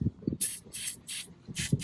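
Four quick, forceful hisses of an aerosol can of Liquid Wrench penetrating oil sprayed on a 1969 VW Bus header, each about a quarter second long, with faint handling clicks between them.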